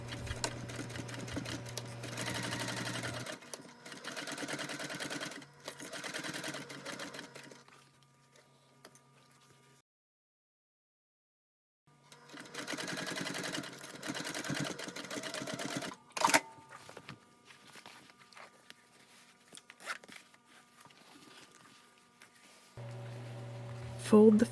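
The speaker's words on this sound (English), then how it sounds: "Sew all the layers together at the top. I'm using a narrow foot here." A sewing machine with a narrow foot stitches through layers of a bag in several fast mechanical bursts separated by pauses, close and clear.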